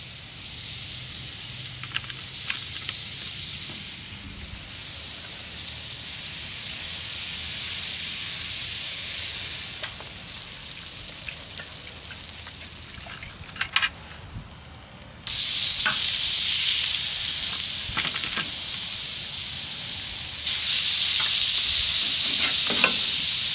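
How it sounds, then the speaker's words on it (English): Bread sizzles and crackles on an outdoor griddle, a steady close hiss that swells louder partway through and stays strong to the end, with no talk. "let's get that bread toasted"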